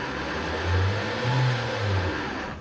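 A 2026 Mazda CX-5 pulls away on a slip test, its engine revving in three swelling surges as the wheels spin for grip, loud and close with no talk.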